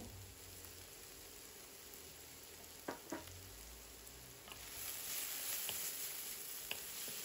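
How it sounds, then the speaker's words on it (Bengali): Onions fry in oil with a pinch of salt while being turned, a soft, steady sizzle with a couple of brief spoon knocks, the frying swelling slightly louder toward the end. "পেঁয়াজটা একটু হালকা লাল করে নিতে হবে, তো তাড়াতাড়ি যাতে হয় যার জন্য আমি একটু লবণ দিয়ে নিচ্ছি।"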